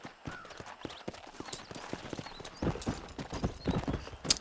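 Horse hooves clip-clop in a quick, steady rhythm while riding in the video game Red Dead Redemption, close and crisp, with the gait growing heavier partway through and a faint whinny at times.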